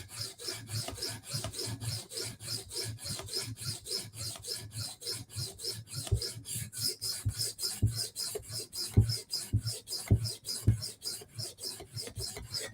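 A knife blade is stroked repeatedly across a sharpening stone to raise a burr, making close, rhythmic rasping passes in a quick, even series with no talking.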